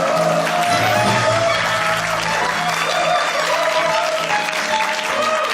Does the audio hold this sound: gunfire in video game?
no